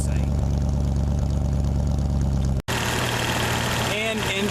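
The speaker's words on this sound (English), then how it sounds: "And engine idle smooth." A 1986 Ford F-150 pickup's engine idling smoothly with a slight cam lope, a steady low rumble close to the mic, briefly cut off midway before continuing.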